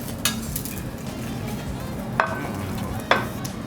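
Beef sirloin and short ribs grilling at a Korean BBQ table in Seoul, a steady sizzling hiss with a few sharp clinks of tongs or dishes standing out near the start and end.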